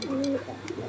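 Pigeons coo in a loft housing a collection of old-blood desi high-flyer and racing pigeons, a close, throaty rolling coo that carries on alone through the moment.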